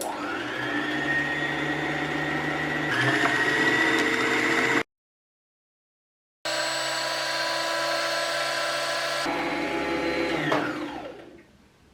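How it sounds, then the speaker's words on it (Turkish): Singer sewing machine winding a bobbin, a steady high motor whine in two runs separated by a short silent gap, rising slightly in pitch before spinning down at the end, with no talk. "ayağımı dikiş ayağıma seri bir şekilde basarak masöre serme işlemine başlıyoruz"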